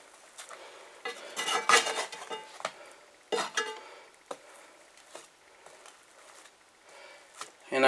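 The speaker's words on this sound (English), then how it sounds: "Flip them over right away because now this side is greased up from the oil in the pan" Flatbread dough flipped and handled in an oiled pan, with clinks and scrapes of utensils against cookware and soft sizzling patter, in several bursts of clatter that trail off into quieter handling.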